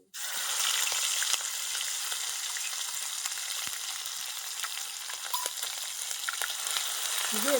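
Fish fat sizzles steadily in hot oil over a spice tempering on low heat, a close, continuous crackling fry that holds even throughout with faint stirring.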